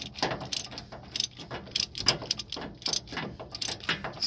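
Ratchet with a swivel extension turning a bolt on a Freightliner Cascadia truck starter: rapid, close clicking in quick bursts of pawl ticks, repeated steadily with no voices.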